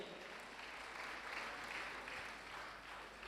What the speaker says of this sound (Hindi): आप जोरदार ताली बजाकर का सम्मान करें